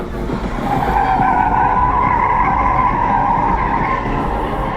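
A BMW drifts at a rowdy car meet, its tires giving a loud, steady skidding squeal for nearly five seconds, with engine roar underneath, close by and continuous.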